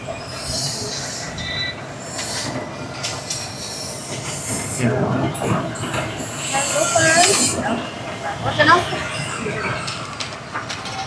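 A ride-on train at a farm resort in Naic, Cavite runs with a steady rumble, rattling and squeals, while people talk nearby.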